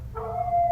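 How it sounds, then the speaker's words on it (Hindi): A fox or dog howls briefly over a low background rumble, rising into a thin sustained wail that lasts under a second. "ये किसी जानवर की आवाज थी, शायद लोमड़ी या कुत्ते की।"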